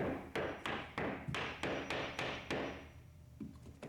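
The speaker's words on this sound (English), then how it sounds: "gently tapping on it with a hammer, but use a scrap piece of wood to protect the edges" A hammer taps flooring planks together through a scrap piece of wood in a studio build, about eight sharp, evenly spaced knocks close up, then a pause and a softer final knock.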